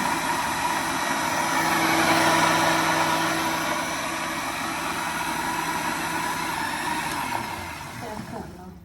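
A kitchen mixer blending homemade mango shake runs as one continuous, loud, close motor whine that holds steady for most of the clip, then winds down at the end.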